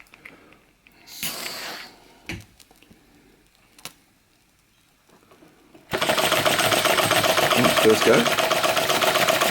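A Hu SH-02 flame licker vacuum engine with a two-speed flywheel starts running after a few quiet seconds of scattered knocks and brief talk, then holds a loud, steady, rapid mechanical chugging to the end.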